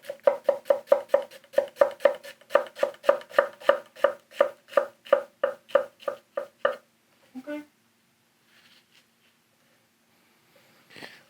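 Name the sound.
chopping onion with a santoku knife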